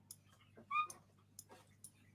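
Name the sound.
dog whimpering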